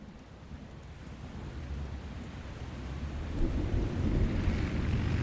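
Steady rain hiss with a low rumble of thunder building and growing louder toward the end.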